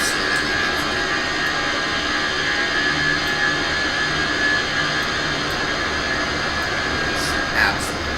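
Jet airliner in British European retro livery, heard as a steady, broad engine roar that holds at an even level throughout, with a brief swell near the end.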